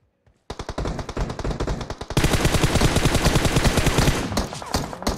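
Rapid automatic gunfire in a Battlegrounds-style shooter game, loud sustained bursts of closely spaced shots that start after a brief pause and intensify into a denser, louder volley with no talking.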